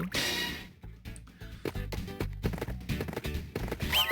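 Horse sounds from the Bibi & Tina: Jump & Ride video game, a stretch of rhythmic hoof clops and whinny-like tones set against bright game music and effects, fairly loud and steady throughout.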